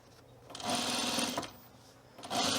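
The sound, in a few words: sewing machine stitching hemp fabric tool belt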